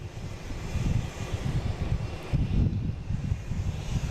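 Boeing 737 MAX 8 airliner on Flight 898 taking off, a distant low engine rumble that swells and fades in waves with wind buffeting the microphone, no voices.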